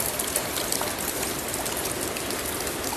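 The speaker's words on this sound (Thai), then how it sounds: "ฝนตก นี่" Rain falls as a dense, steady hiss filling the whole moment, with no voices over it.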